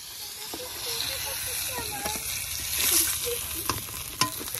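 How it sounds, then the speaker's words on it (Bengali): Fish fries in hot oil in a pan for a fish curry with brinjal, producing a loud, constant close sizzle and hiss, broken by crackles and utensil clicks from stirring. "মাছ ভাজা তেলের মধ্যে আলু বেগুনিও ভেজে নেব।"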